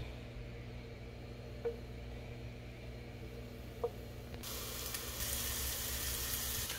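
King mushrooms searing cut side down in a pan, a faint low sizzle with a couple of small clicks, swelling into a louder, brighter hiss partway through, no talk.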